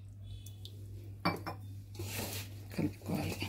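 Bitter gourd chips being mixed in a large bowl in a home kitchen, heard as scattered clinks and scrapes that start sparse and then grow busier, close by against a low steady hum.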